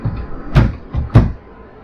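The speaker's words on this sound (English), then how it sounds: "I love it when the drawers come out full extended because you can really use them" Kitchen drawers in a Thor Outlaw toy hauler RV are pulled out to full extension, two distinct sliding thumps close by, with no talk.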